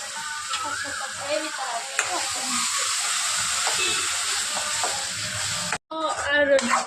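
Fried potatoes go into a frying pan and are mixed, a steady close sizzle and hiss running under soft stirring scrapes, with a brief dropout and a louder burst of frying at the end.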